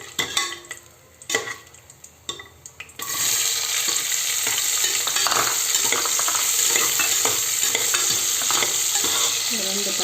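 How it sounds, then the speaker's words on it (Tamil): Onions stirred and sautéed in a pan for biryani: a few quiet clinks and stirs, then a steady, close, loud sizzle of frying that continues with scraping strokes of the spoon. "இந்த வெங்காயம் நல்லா வதங்கிடுச்சு."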